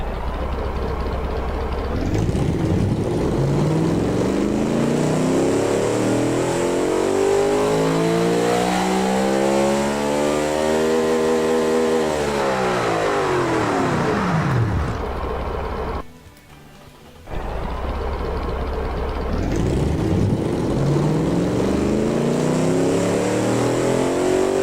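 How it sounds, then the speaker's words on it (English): A huge American-style car engine from the video game Automation revs up and down in long, loud sweeping swells, rising to a high pitch, dropping away, cutting out briefly, then climbing again with no talk. "I'm currently loving this engine too much, because it's huge and it is probably gonna sound wild"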